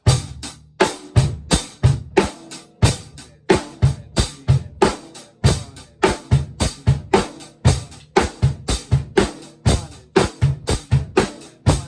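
A fast pop drum groove played with the swat and flick technique plays alone, with sharp, evenly spaced snare and hi-hat strokes driving a quick, steady rhythm up close.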